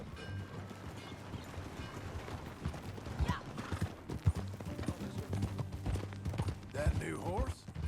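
Horse hooves clip-clop steadily in Red Dead Redemption 2 as riders set off together, a rhythmic trotting beat with creaking tack, heard under spoken dialogue and a music bed.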